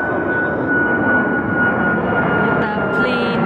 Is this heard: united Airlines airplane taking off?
yes